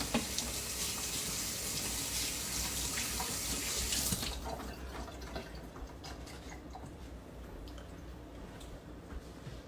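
Running water from a kitchen faucet as hands are rinsed while making Southern cornbread dressing, a steady loud rush for about four seconds that then drops to a quieter, lighter trickle.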